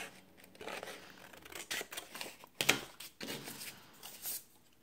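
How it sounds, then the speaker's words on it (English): Scissors cutting paper along a printed line: a series of soft, close snips and rustles, with one sharper clip partway through and quiet pauses between cuts. "So I just cut along the line of where the printing starts."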